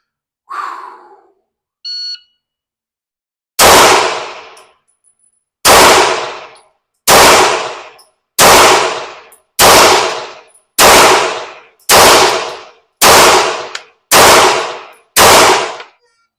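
Glock pistol shots ring out at an indoor GSSF match, about ten loud, evenly spaced reports with booming echo, preceded by a brief beep.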